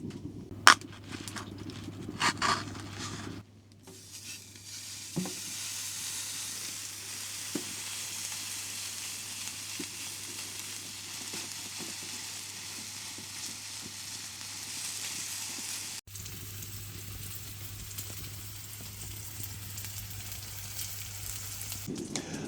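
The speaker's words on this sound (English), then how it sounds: "So I'm going to have to cook my burgers using just the fat coming out of the burgers." Burgers sear in a dry pan on a stove inside a hot tent while camping, a continuous fatty sizzle with occasional sharp crackles and a few scraping clicks at the start.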